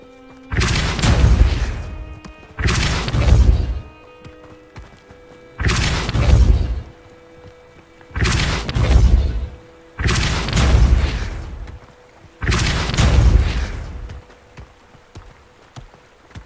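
Depulso force spell impacts in the wizarding game Hogwarts Legacy, six heavy booming blasts spaced about two seconds apart, each a loud thudding burst with a short rumbling tail, no talk.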